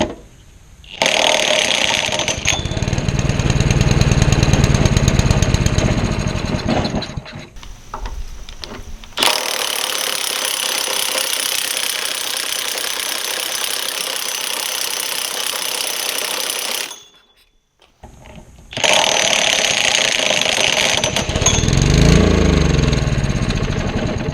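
A gas-powered air compressor engine runs loud and steady in long stretches, stopping briefly once before restarting with a rough, rattling drone; no talking is heard.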